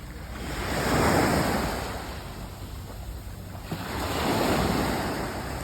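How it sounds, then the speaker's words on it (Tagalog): Waves at the secret beach in Boracay, two broad surges of surf rolling in and washing out, with steady wind rumble on the microphone and no voices. "Yung tinatawag nilang secret beach"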